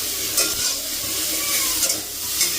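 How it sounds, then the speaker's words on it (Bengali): Potatoes and soaked soybean chunks being stirred in a frying pan, a steady close sizzle with soft scraping strokes of a spoon against the pan, no talking. "এবার এটাকে কিছুক্ষণ নাড়িয়ে অল্প জল দেবো"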